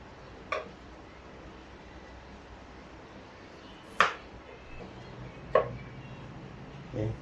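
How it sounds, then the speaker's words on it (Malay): A few sparse, sharp knife chops on a cutting board, spaced irregularly over a quiet background. "Sebelum tu kita potong dulu."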